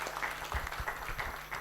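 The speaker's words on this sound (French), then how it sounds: "Merci d'applaudir pour sa question," Audience members at a conference on AI governance in Africa give short, sparse applause after a question. Scattered individual claps sound at a moderate distance in a roomy hall.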